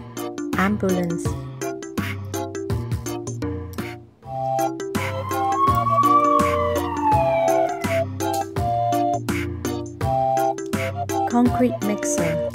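A toy ambulance siren sweeps up and down over steady, upbeat children's music, its wail loudest midway through.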